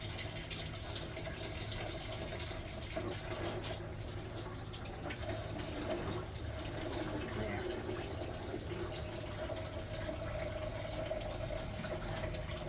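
Coolant pours steadily from the radiator of a 1965 Chevrolet Impala SS onto a garage floor, a continuous splashing stream that stays even and close throughout with no pauses.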